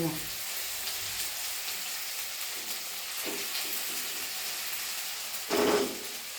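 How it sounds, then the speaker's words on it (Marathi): Chopped coriander with tomato sautéing in a pan for a matki usal, giving a soft, steady sizzle that swells into a brief louder hiss near the end. "आणि ही सगळी कोथिंबीर छान परतून घ्यायचो वास आला पाहिजे छान"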